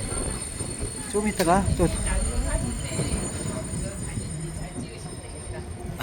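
A Norwegian mountain railway train at Myrdal station rumbles along with squealing, wavering wheel screeches early on, then settles into a steady low rolling drone while a voice talks over it.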